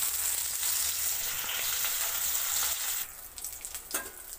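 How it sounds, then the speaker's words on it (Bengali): Silver carp pieces fry in hot mustard oil in a kadai, giving a steady bright sizzle that fills the first three seconds, then thins to softer crackling with a few louder spatters. "কড়ার মধ্যে আমি একটু সরষের তেল দিয়ে দিচ্ছি। মাছটা দিয়ে দিয়েছি, মাছটা ততক্ষণ ভাজা হতে থাক।"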